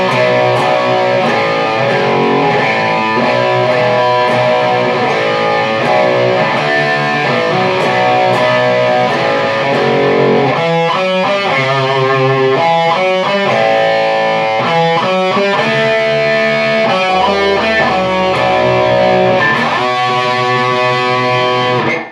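A distorted electric guitar plays an interlude, with sustained chords giving way to choppy, rhythmic picked and hammered passages, loud and alone with no talk.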